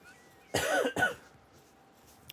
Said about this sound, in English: I'm like taking off my headset to cough